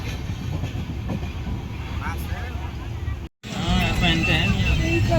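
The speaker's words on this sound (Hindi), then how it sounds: "और ट्रेन भी मैहर के लिए चल दी है।" A passenger train pulls away toward Maihar, giving a steady rumble of moving rail cars, loud and continuous, with people talking inside the carriage.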